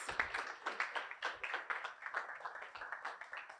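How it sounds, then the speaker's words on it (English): Scattered clapping from an audience at a digital rights forum, GhanaSIG session, a steady patter of hands for a few seconds at modest volume with no talk over it. "let's give a round of applause"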